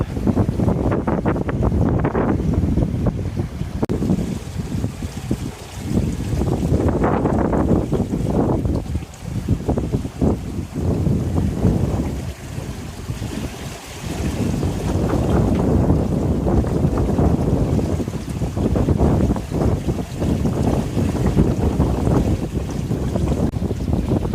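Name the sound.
sailboat underway with all sails up in wind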